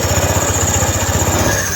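A fuel-injected motorcycle engine runs steadily at idle during throttle body cleaning, with a close, even low pulsing and a thin high whine above it throughout.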